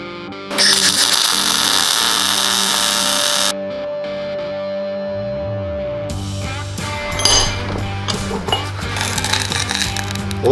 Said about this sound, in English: we're gonna weld that washer in, and basically it's gonna weld to the race